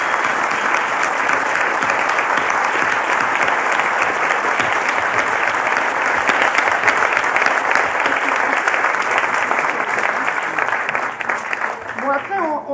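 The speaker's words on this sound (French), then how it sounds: "je vous propose qu'on l'applaudisse." Sustained audience applause in a conference hall, a dense and steady wash of clapping from many hands lasting over ten seconds before it starts to fade near the end.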